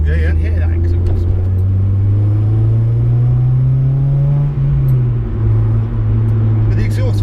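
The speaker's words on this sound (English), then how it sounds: "You can hear that exhaust." A car fitted with a Tegiwa full exhaust system and Tein coilovers drives steadily, its low, smooth exhaust drone holding throughout with a slight rise and dip in pitch, the cabin rumble constant and close.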